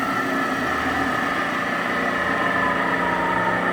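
A Clausing Kondia milling machine spindle runs in high gear at 2600 RPM, producing a steady, loud motor whine and hum that holds constant throughout without talk.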